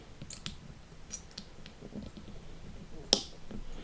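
A part of a 1:8 scale John Wick Mustang model kit is pushed into place: faint handling taps, then a single sharp, close snap-click near the end, with no voices.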